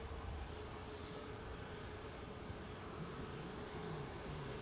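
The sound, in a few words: Aer Lingus Airbus A330 moving at Manchester Airport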